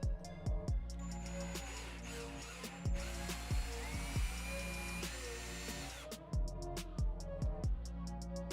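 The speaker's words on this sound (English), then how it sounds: "mark our holes on our faceplate so we can pre-drill our holes" Power drill pre-drilling screw holes through a door knob faceplate into a wooden door edge, a steady whirring drone broken by short repeated bursts and stops, close and loud with no talking.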